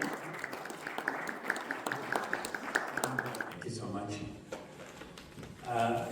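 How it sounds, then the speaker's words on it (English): Audience applause at an education awards ceremony in Dubai greets an honoree, a dense wash of clapping under talk that thins out toward the end before a brief louder burst. "Big round of applause, please."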